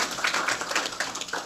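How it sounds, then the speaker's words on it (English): A small crowd at a Santa Barbara Unified School District board of education meeting claps, a brief, fairly faint round of applause of scattered overlapping hand claps with no voices. "We can give him a nice round of applause."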